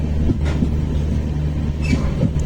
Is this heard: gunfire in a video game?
no